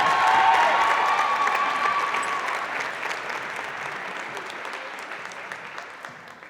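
Crowd at a high school gymnastics section final applauding uneven parallel bars medalists, a broad wave of clapping that starts strong and slowly fades, with faint voices underneath.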